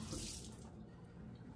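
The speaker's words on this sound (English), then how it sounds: "now just quick wash my hands" Tap water runs steadily into a kitchen sink while hands are rinsed under the stream, a close, continuous splashing hiss that fades a little partway through.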